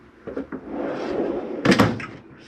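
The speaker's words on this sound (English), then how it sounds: "Slide this door to the right." A washer-dryer closet door in a 2021 Entegra Reatta 37K motorhome slides along its track with a soft rolling rumble, ending in a brief clunk as it stops.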